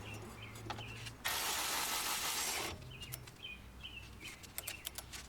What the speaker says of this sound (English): I'm just going to use a cordless ratchet to take off the bolts quicker.